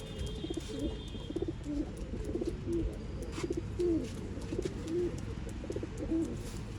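Pigeons coo repeatedly at a bird sale in Bangalore, soft low rhythmic calls close by over faint background hiss, with no speech.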